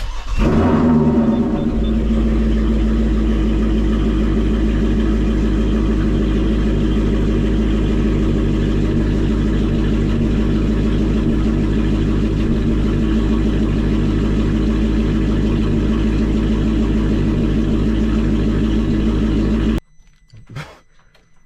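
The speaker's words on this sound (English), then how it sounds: "the car surprisingly ran long as shit with no fuel pump fuse" A Hyundai Genesis 5.0 V8 idles steadily with its fuel pump fuse pulled, a low, even rumble holding close and loud for about twenty seconds before it suddenly cuts out, leaving a few faint knocks.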